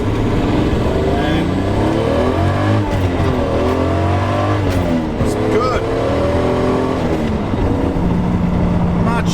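A Toyota Supra with a new single-plate clutch accelerates on the road, its engine droning and revving through rising and falling pitch sweeps beneath steady road and wind noise from inside the car.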